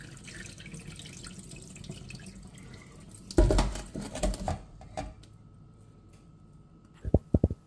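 Foxtail millet washed by hand in a bowl of water: quiet trickling gives way to a burst of swishing and sloshing, a few more splashy stirs, then faint drips and small knocks near the end.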